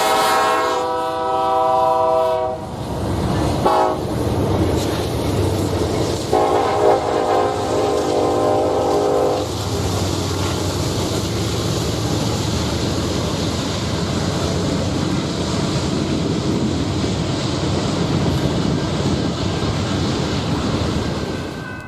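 Norfolk Southern intermodal freight train NS 233, led by locomotive NS 8098, sounds a loud multi-note horn in several blasts before rumbling past close by with a steady roar of rolling cars, no speech.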